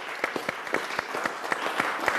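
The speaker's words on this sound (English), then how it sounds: "Applause for Susan" Sparse applause from a small audience after a presentation at a competition finals and awards event, a handful of distinct, unhurried claps in an irregular rhythm.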